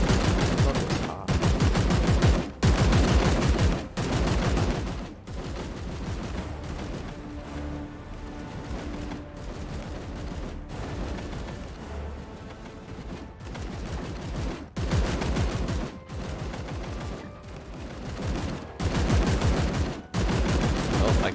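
Gunfire from the turn-based video game Chaos Gate Daemonhunters: dense bursts of shots and booming impacts sounding repeatedly over a steady game soundtrack, loud and close throughout.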